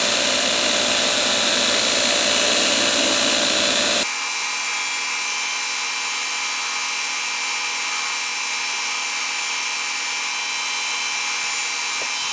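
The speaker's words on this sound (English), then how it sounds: "the easiest way to true this up and put a little edge on it is a belt sander" A belt sander grinds an edge onto a hand-forged letter opener, a loud continuous abrasive roar that shifts in tone partway through as the steel is pressed against the belt, with no talking.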